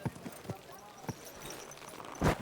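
Horse hooves clip-clop in Kingdom Come II, a few distinct, evenly spaced hoof strikes on hard ground in a market setting, nearby and fairly clear, with merchants' voices calling out around them.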